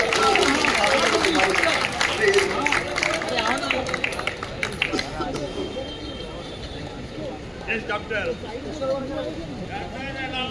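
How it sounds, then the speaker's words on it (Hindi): A crowd at a felicitation function applauds, a dense continuous clapping that sounds fairly close and gradually thins out, with a voice talking through it. "सब ताली बजाइए"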